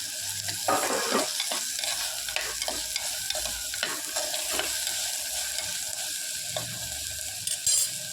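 Onion, ginger garlic paste and tomato fry in a pan for spicy Chintamani chicken, a close continuous sizzle with irregular scraping and stirring strokes throughout.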